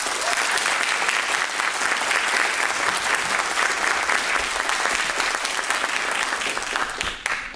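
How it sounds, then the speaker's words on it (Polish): Warm, sustained applause from an audience welcoming sports broadcaster Tomasz Zimoch at a talk, many hands clapping steadily for several seconds before tapering off at the end. "Pan Tomasz Zimoch, gorące oklaski."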